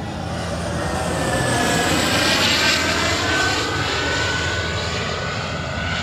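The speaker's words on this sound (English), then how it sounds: "before it's rudely interrupted by that plane" A fixed-wing airplane passes close overhead near Farnborough airport, its engine a steady, loud roar that swells slightly and holds throughout with no talk.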